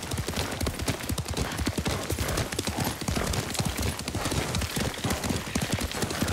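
Horse hoofbeats in the video game Ghost of Tsushima patter in a rapid, steady clip-clop rhythm at a gallop, close and continuous throughout.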